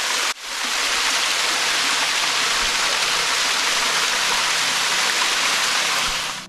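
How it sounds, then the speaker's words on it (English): A small waterfall at Silver Falls in Hobart rushes in a loud, continuous broadband roar close by. It starts abruptly and holds steady throughout with no talk. "The sound is fascinating, isn't it? It's a small waterfall,"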